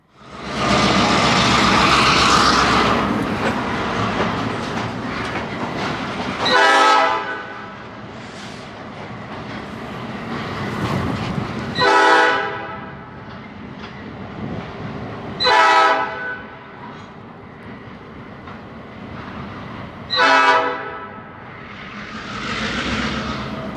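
A freight train on the Boundary Trails Railway rumbles as it pulls out of town, loud and continuous, while its horn sounds in four distinct blasts spaced several seconds apart.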